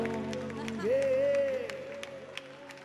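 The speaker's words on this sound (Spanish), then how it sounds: "Señores, fuerte el aplauso para Axel" Studio audience applause for a guest named Axel on a TV show, a steady wash of clapping under a host's voice, moderately loud and continuous.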